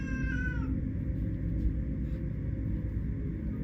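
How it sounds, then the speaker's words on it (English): Agitated house cat huffing and growling at a closed door after a short meow at the start, set against a steady low rumble of background noise. "Do your cats huff at you?"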